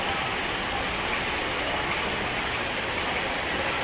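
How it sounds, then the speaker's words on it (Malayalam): Heavy rain falls in a steady, dense hiss of water, continuous and fairly loud with no pauses or voices. "ഇതിൽ മഴ കാണുന്നുണ്ടോ നല്ല മഴ വെള്ളം വീഴുന്നത്"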